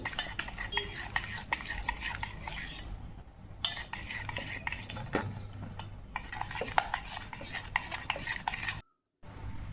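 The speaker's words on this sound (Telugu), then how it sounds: "నీట్గా ఉండలు లేకుండా కలుపుకోవాలండి" Maida cake batter being mixed smoothly in a bowl, a utensil stirring and clinking against the sides in steady repeated strokes with a brief pause, close and clear, no voices.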